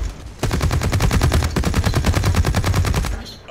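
Rapid automatic gunfire in the shooter Blacklight: Retribution, a loud close burst of evenly spaced shots for about three seconds, then stopping abruptly.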